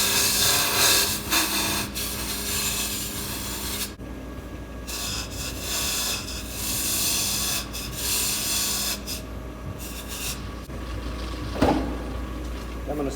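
Skew chisel rubbing and scraping against spinning wood on a lathe while turning a small radius, in rough gritty bursts with short pauses, close up.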